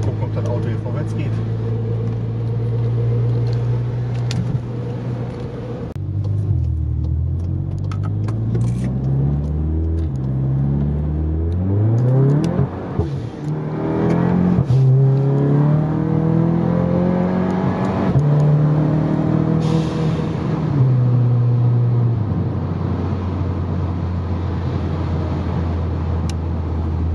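Tuned Seat Leon 2.0 TFSI with about 450 hp pulling away on a road, its engine note climbing through the gears in stepped rises with each shift, loud and close from inside the cabin, with someone talking over it.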